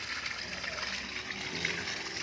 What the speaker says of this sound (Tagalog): Ginagyan na namin tubig.